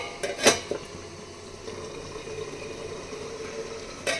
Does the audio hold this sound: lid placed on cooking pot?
yes